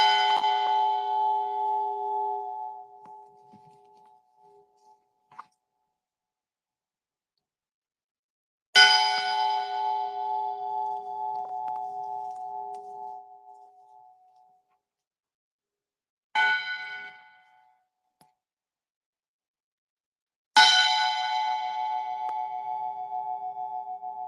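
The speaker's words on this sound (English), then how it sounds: "To ring the bell" A bell rings four times at a press conference in Coral Gables, Florida, each strike a clear ringing tone that decays slowly into silence, with long gaps between strikes.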